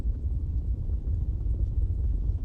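A stomping sample from the Soundiron Requiem Da Fingaz library plays as a low, continuous rumbling thud of many feet, heavy and dense like distant thunder, with no distinct individual beats.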